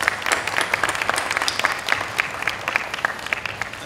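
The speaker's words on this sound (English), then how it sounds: "please join with me in giving a big round of applause to everyone for their contribution and commitment" A small audience at a reception class graduation applauds, with distinct individual claps standing out in an uneven, lively patter that continues throughout.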